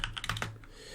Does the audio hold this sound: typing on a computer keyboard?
yes